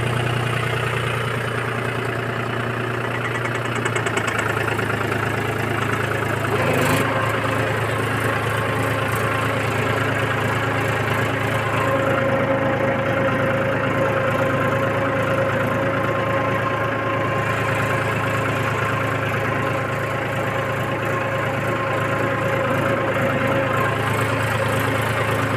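A Mahindra 265 tractor with a bund maker attached runs steadily, its diesel engine holding a loud, even idle-like drone for the whole stretch, with a brief clunk partway through and no voices.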